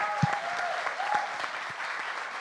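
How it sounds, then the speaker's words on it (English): Audience applause for a panel of women professionals at a communications event, a steady wash of clapping filling the room, moderately loud and continuous. "Big round of applause for the panel."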